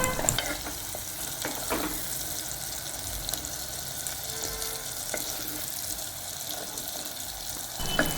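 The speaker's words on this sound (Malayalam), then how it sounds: "ഇനി ഇത് നന്നായിട്ടൊന്ന് വഴറ്റിയെടുക്കാം" Papaya pieces with chili powder sizzle and get stirred in a pan, a soft continuous frying hiss with a few scraping strokes, fairly quiet and steady with no talking.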